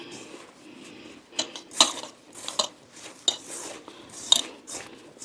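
A utensil scrapes and clinks against a bowl in irregular bursts as flour for ribbon pakoda dough is stirred and mixed, with quiet gaps between strokes.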